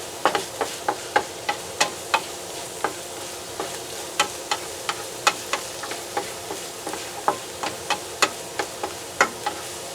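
Spare ribs sautéing in a pan give a steady close sizzle, broken by regular sharp clicks and taps as they are stirred, with no talking.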